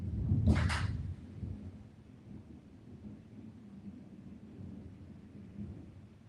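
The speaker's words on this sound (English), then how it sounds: "It is fucking raining and thunderstorm so bad." A thunderstorm with rain: a sharp nearby crack of thunder opens, followed by a low rumbling roll and the steady patter of rain that continues underneath.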